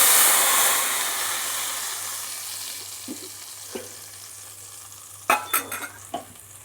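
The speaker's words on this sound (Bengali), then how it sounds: "এবার আমি মশলাটাকে তেলের ওপর দেব।" Spice paste of dry chilli powder mixed with water hits hot oil for a boal fish curry, and a loud hiss slowly fades. A cluster of clattering stirring strokes follows near the end.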